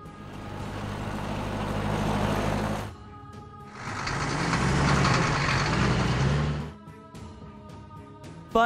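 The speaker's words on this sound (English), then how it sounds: "Police car." Cartoon police car engine revving and idling in two loud rumbling bursts with a brief drop between, ending in a quieter tonal tail, no siren evident.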